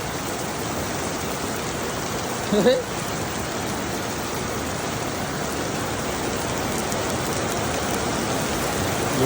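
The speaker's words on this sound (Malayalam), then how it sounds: "തകർത്ത മഴ." A steady downpour of heavy rain roars continuously in Dammam, Saudi Arabia, with a short voice briefly rising above it early on.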